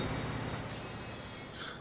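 Train rolling along the line in Transport Fever 2, with a high, thin wheel squeal over a steady rumbling bed of rail noise, heard alone and moderately close.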